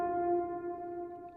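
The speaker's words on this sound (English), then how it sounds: "Very just a reverbed piano." A reverb-soaked piano sits in a music mix, holding one soft, sustained chord that blooms and slowly decays, with a long wash of tail and nothing else happening.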